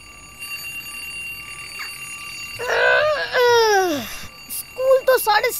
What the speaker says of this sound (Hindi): ये 6:45 का अलार्म किसने लगा दिया इसमें?